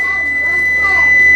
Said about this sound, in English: let me turn off my timer